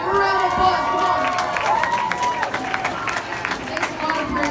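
An audience at a leadership conference keynote claps and cheers as a volunteer comes up, with crowd voices and shouts mixed into the applause, which continues steadily at moderate loudness.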